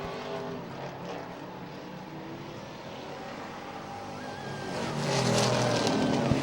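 Race cars roaring around a track in close competition, a dense, steady engine drone that swells louder near the end as cars pass close by.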